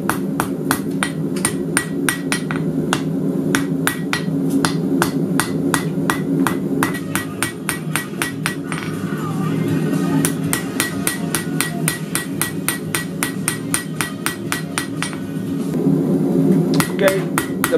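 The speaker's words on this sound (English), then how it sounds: "So now we're gonna forge a blade." Hammer blows ring out steadily on a welded knife blade being forged at a smithy, a long series of sharp metallic strikes close by, spaced evenly and growing quicker at times.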